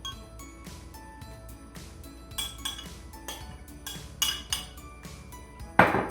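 Oat flake batter with maple syrup and canola oil mixed in a bowl, a utensil clinking and tapping against the bowl in uneven bursts, with a sharper knock near the end, and no voices.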